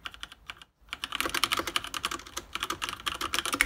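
Rapid clattering keystrokes on a new white mechanical keyboard with Cherry switches, close and crisp, with a short pause near the start before steady fast typing resumes, no voices.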